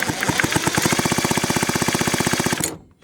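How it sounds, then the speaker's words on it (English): A Milwaukee M12 cordless drill cranks a Homelite XL 101 chainsaw engine with the ignition on, a rapid, even, loud chugging of compression pulses for a few seconds before it stops abruptly. "Let's see if this poor little M12 drill will turn this over enough RPM to see what's going on."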